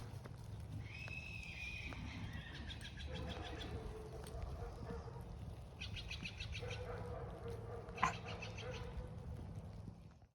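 A pony runs and bucks nearby, its hoofbeats coming in quick rhythmic bursts alongside a few whinnies and a sharp thump, with faint background sounds throughout.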